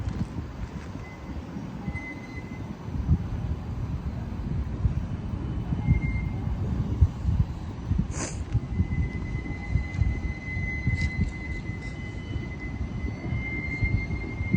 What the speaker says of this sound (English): the tram is leaving the station.